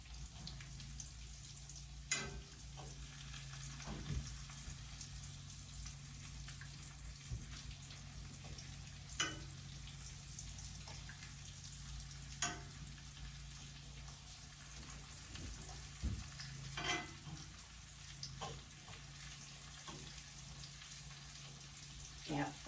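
Liver cooking in a pan gives a faint, steady frying hiss with occasional soft pops and ticks, quiet and continuous throughout.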